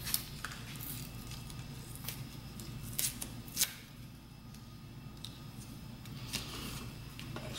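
Small epoxy packet being torn open by hand, several quiet crinkling rips and crisp rustles spread across a soft, close-up workshop background.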